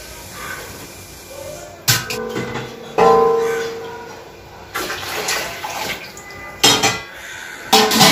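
A metal cooking pot is picked up and handled in a home kitchen while making wheat-milk kurdai, giving several loud clanks and scrapes with rushing water-like hiss between them. The sounds are close, with no talking.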